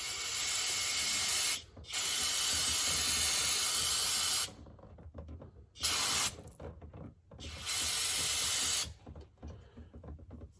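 Aerosol brake cleaner sprayed onto rear brake parts and differential area during servicing: several long, loud, steady hissing bursts with short pauses between, close up, no talking.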